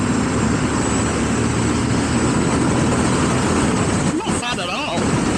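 A 2025 Royal Enfield Bear 650 motorcycle pulls hard to overtake, its engine a constant loud drone heavily masked by wind roar, with a voice speaking briefly near the end.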